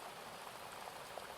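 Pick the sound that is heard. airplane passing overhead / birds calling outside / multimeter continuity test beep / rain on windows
rain on windows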